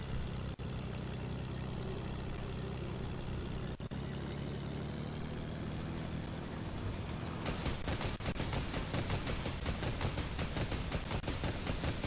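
Rapid gunfire in the Fortnite video game, heard first under a steady aircraft engine drone and then as dense bursts of shots filling the second half, loud and close throughout.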